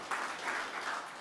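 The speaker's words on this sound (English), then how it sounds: "Please give her another round of applause." A live audience applauds a music industry executive after her presentation, a steady wash of clapping that holds evenly through the short moment with no voices on top.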